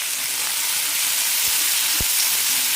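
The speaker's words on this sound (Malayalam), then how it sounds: "തക്കാളി എടുത്തിട്ടുണ്ട്. കൂടെ തന്നെ കുറച്ച് മല്ലിയിലയും ഇടാം. നന്നായി വഴറ്റാം." Tomatoes and coriander leaves sauté in a hot pan for a mustard tomato chutney, giving a steady, even sizzle throughout with a couple of brief soft knocks near the end.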